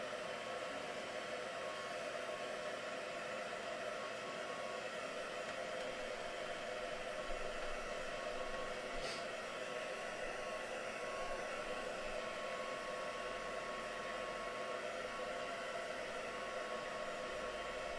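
A dryer blows steadily on shimmer paint across a craft project, a continuous even whooshing hiss that holds at one level throughout with no voices.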